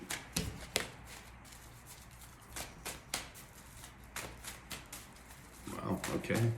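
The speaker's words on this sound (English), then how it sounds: "Very long shuffle." Tarot cards riffled and shuffled in quick bursts of crisp flutters and taps, close by, with soft background noise between the bursts.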